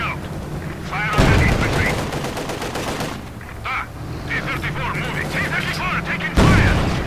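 Loud, rapid bursts of gunfire and heavy cannon blasts fill a tank battle video game featuring a T-34, with the shots coming in irregular volleys and sharp impacts.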